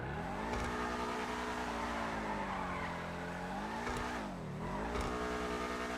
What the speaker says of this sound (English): The sound of this car sounds amazing as well.